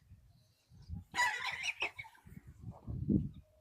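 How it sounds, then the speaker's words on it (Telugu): Chickens on a farm give a few close, fairly quiet clucks and squawks, with a louder burst of calling in the middle and softer clucking afterward. "కోడి చూసారా ఫ్రెండ్స్"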